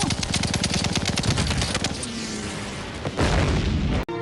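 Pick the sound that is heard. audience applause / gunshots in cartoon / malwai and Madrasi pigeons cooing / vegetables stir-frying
gunshots in cartoon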